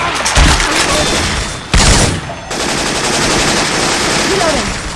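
A Syphon Filter machine gun sound, swapped into the zombie shooter Left 4 Dead 2, fires loud sustained bursts up close, with a sharp louder blast midway, a brief break, then continuous rattling fire.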